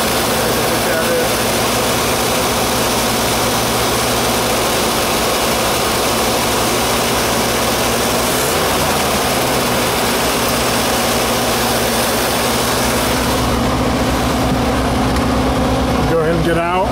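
A 1960 Chevrolet Corvette with a matching-numbers engine idles steadily, a constant loud, low rumble that holds throughout, with a person talking over it.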